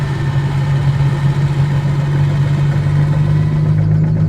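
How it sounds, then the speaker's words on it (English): Bell 47G helicopter piston engine running up in Microsoft Flight Simulator 2020, a steady loud droning hum with a constant low tone, heard alone with no talk. "Rotor engine's coming up."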